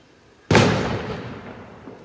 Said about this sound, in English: As the fireworks go off on this celebration of this great nation